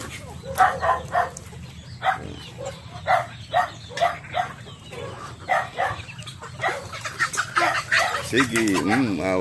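A dog barks repeatedly on a farm during animal feeding, sharp near barks in an irregular rhythm with chickens nearby and a person talking in between.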